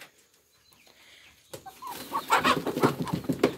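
Young hens newly brought to a backyard coop cluck and squawk in agitated bursts after being handled, starting quietly and growing louder and busier toward the end, close by.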